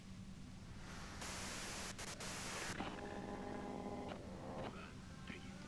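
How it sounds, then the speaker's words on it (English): Harsh radio-like white noise hisses in the detective game Disco Elysium, rising in a loud static burst for a couple of seconds and then fading into a low hum with faint tones. "If you've got something really important to say, you can do it through the white noise."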